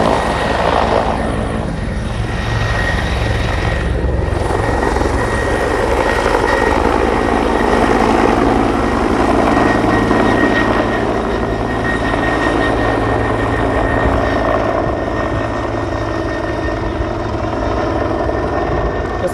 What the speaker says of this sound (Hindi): फाइनली हेलीकॉप्टर उड़ चुके हैं संगवारी